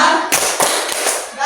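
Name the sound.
class doing thumb clap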